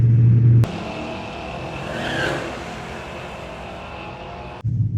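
Engine of a 2018 Jeep Grand Cherokee Trackhawk at a quarter-mile drag strip, a steady loud roar holding for several seconds between abrupt cuts, with no talk over it.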